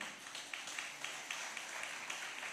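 An audience at a preaching event claps faintly and fairly steadily, a soft scatter of distant hand claps with a few sharper ones standing out.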